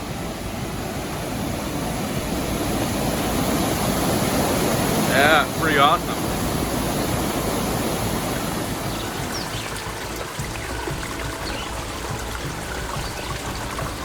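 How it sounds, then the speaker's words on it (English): A rain-swollen stream, the South Fork of the Miller River, rushes in a steady broadband roar close by, continuous throughout, with someone speaking briefly over it. "with all the rain we've been having, these streams, I think this is actually the South Fork of the Miller River right here"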